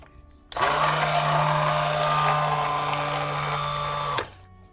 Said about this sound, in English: I'm going to go ahead and use an immersion blender to blend this up a little better